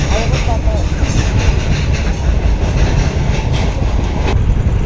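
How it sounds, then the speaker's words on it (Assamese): A container train rolls past a level-crossing gate near Siliguri, a steady loud rumble of wagons and wheel clatter filling the clip from start to finish, with faint voices mixed in. "তাকো কণ্টেইনাৰ ট্ৰেইন।"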